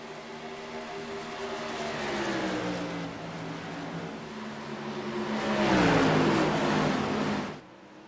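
Modified race cars run side by side on an Iowa oval track, engines droning and rising in pitch, swelling louder as they sweep close past, then cutting off abruptly near the end.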